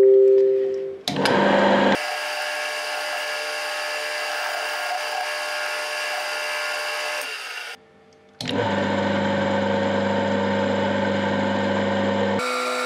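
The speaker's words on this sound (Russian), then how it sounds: "Сейчас торцану и просверлю отверстие также." A small lathe or power tool spinning up to face the end of a bolt and then drill a hole in it, with steady high-pitched motor whine in two long runs separated by a brief pause.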